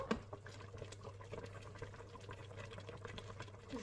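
Carrots and turnips simmer gently in a pot, a quiet, steady bubbling with faint irregular pops and a soft low hum underneath, heard close and alone.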